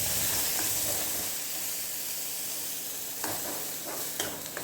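Ground vegetable chutney with ginger hits hot tempering oil and sizzles steadily while a spoon stirs, a loud continuous hiss that eases slightly, with a couple of faint scrapes near the end.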